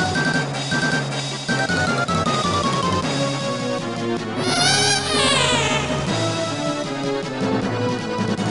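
SNES-era video game music plays from an emulated sound chip during a Final Fantasy V battle, a busy synthesized melody with a descending sweep partway through, loud and continuous with no talk.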